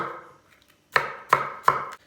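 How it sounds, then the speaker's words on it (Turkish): Three sharp knife chops through a tomato on a cutting board, evenly spaced, close and clear, after a brief quiet moment. "Hemen kenardan bir tane de domates doğrayıp sebzemizin hepsi doğranmış olsun"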